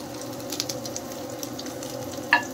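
Capsicum and finely chopped green chilli frying in a pan, giving a steady close sizzle with light stirring scrapes and a short sharp clink near the end, no talking.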